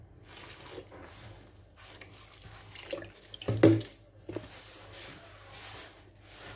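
Water poured and mixed into flour for Moroccan homemade bread dough, a soft trickle and sloshing with one brief louder splash midway, fairly faint and close.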